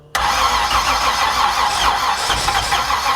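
A 1968 Camaro engine with a badly adjusted carburetor keeps cranking and failing to catch, a steady loud churning starting abruptly and running on without settling into an idle.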